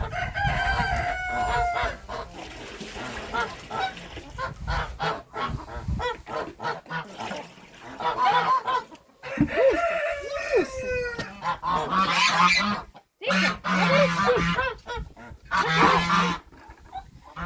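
A flock of turkeys screeching and gobbling loudly nearby, overlapping harsh calls and squawks with short gaps, busy and noisy throughout.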